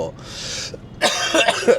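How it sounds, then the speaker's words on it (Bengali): A dry, tickly cough from someone with a cold: a short hoarse burst, then a brief throat-clearing rasp, close to the mic. "প্রচণ্ড পরিমাণে খুশখুশে কাশি খুব বাজে অবস্থা"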